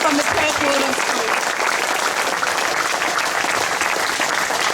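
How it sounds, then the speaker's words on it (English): A crowd at an outdoor wetlands rally applauds loudly and steadily, with some cheering and voices mixed into the dense clapping throughout. "Just another great round of applause for those amazing kids, young women from the Perth Water School."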